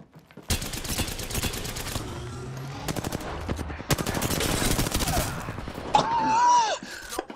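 Rapid gunfire in Apex Legends, including Mastiff shotgun blasts, loud close bursts of repeated shots in several volleys, with game effects and a rising whine near the end.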